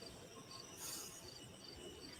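A distant train over a mile away gives a faint steady rumble with a brief high squeal, under a night chorus of crickets and insects.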